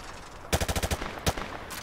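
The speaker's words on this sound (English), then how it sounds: "Grab that weapon off the table and fire at the targets behind you." Hip-fire from a weapon in Call of Duty Modern Warfare 2 Remastered on a training range: a rapid burst of about six close, loud shots, then a single shot and another short burst.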